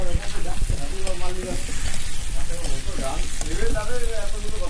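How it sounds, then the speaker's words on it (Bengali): Egg and potato curry sautés loudly in a pan, giving a dense, continuous sizzle with the scrape and clatter of stirring throughout. "ডিম আলুর তরকারিটা আমরা আজকে অন্যভাবে একটু কষার চেষ্টা করছি।"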